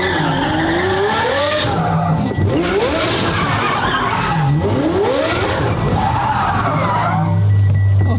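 A Ferrari drifts on the handbrake, its tires squealing in long wavering howls over a loud, continuous engine roar that surges and fades, with no talk heard.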